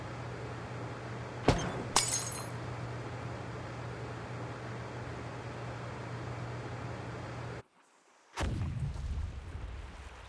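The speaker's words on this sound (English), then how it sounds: "Sounds like some kind of explosion near the clinic." An explosion in the video game Reverse: 1999, a sharp blast followed by a second crack over steady background noise and a low hum, then a brief dead silence before the sound resumes.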